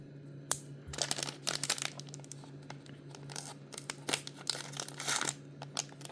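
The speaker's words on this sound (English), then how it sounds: "So let's see if I can cut it with a knife instead of." A knife slicing through the packaging of a Lamborghini Sian Roadster model box, heard as close crinkling, scraping and tearing strokes in irregular bursts over a steady low hum.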